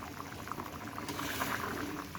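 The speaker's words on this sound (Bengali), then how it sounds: "এখন ফুটে উঠেছে তরকারিটা" A potato and bitter gourd curry bubbles in a pot, a soft, steady burble of simmering liquid heard up close with no talking.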